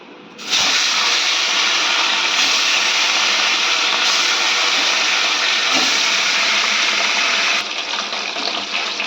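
Fish fried in hot oil gives off a loud, steady sizzling hiss that starts abruptly and carries on continuously before easing slightly at the end, with no talk over it.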